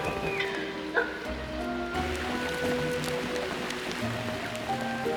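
Steady rain falls in the Kenyan wild, a dense continuous hiss with soft patter on surfaces. A few brief animal calls break through the wash.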